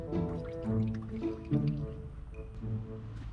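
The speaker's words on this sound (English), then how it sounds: "I'm about to go ahead and pour this coolant in here" Coolant glugs and trickles as it is poured into the engine of an Infiniti G35 with a blown head gasket, with soft gurgling and dripping, close and fairly quiet.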